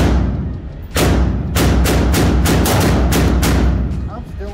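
Glock 19 pistol fired at a shooting range: a series of loud, sharp reports with a steady rhythm of about five or six shots, each ringing out over a noisy background.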